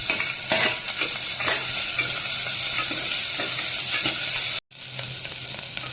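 Loud, steady sizzling of garlic and onion frying in hot oil, with occasional scraping stirs; the sizzle drops out for an instant near the end, then resumes.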